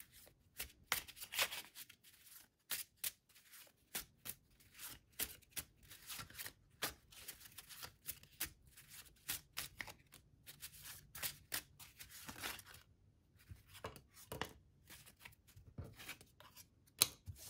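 Tarot cards handled and shuffled close up, a run of quiet, quick papery riffles and flicks in uneven bursts, with short pauses between and no voice.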